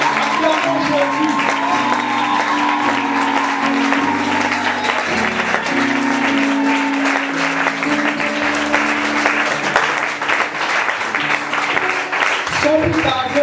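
A church congregation claps and cheers in acclaim during a French-language sermon service, sustained dense applause with voices and music mixed in throughout.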